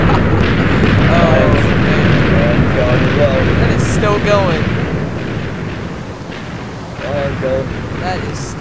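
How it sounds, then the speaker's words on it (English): TNT explodes in Minecraft with a continuous, loud, rumbling roar that fades partway through, while voices talk over it. "That was a nice explosion we had going."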